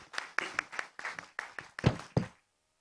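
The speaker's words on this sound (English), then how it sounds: "You can keep your hands clapping." A few hands clapping at a conference session, about ten sparse, distinct claps in an uneven rhythm, fairly close and quiet, fading out to silence after two seconds.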